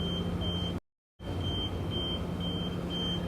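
Car alarm beeping aboard a ferry to the Isle of Skye, a repeating series of short high beeps in pairs over a constant low engine rumble, with a brief full dropout partway through.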